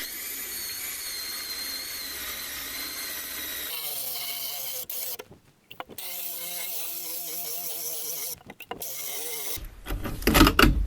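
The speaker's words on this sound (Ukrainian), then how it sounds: "короночка Victory Tool на 32 мм, друга швидкість" A 32 mm Victory Tool core bit meant for porcelain stoneware runs at second speed through water-cooled stainless steel, giving a steady high whining grind that changes pitch, breaks off briefly twice, then ends in a loud burst.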